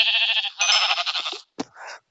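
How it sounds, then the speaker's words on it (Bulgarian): A sheep in a survival video game bleats loudly and close, a long wavering call followed by a shorter one, with a brief chime-like blip between them. "Овцата."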